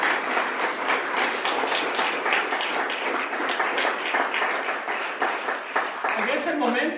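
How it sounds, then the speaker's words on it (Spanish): Applause from a church congregation during a Spanish-language sermon: dense, sustained clapping for about seven seconds, with a voice starting to come through near the end. "Denle un aplauso."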